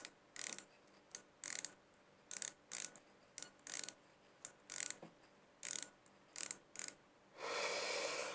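A Lidl Parkside micrometer being adjusted with its small wrench, giving about a dozen crisp mechanical clicks in a steady, evenly spaced run, quiet and close, ending in a brief longer hiss.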